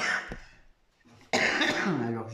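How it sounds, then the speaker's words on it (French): A person has a coughing fit, with harsh repeated coughs near the microphone, a short lull, then a louder burst of hacking coughs and throat-clearing. "Alors j'ai des quintes de toux."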